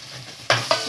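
Ginger garlic paste frying in a pan, with a steady close sizzle broken by two quick stirring scrapes of a spoon.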